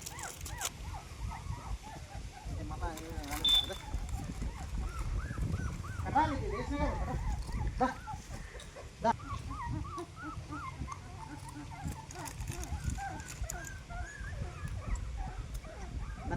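Newborn puppy, the only survivor of a mother dog's first litter, whimpering and yipping in thin, repeated high cries, mixed with soft talk and cooing from nearby people.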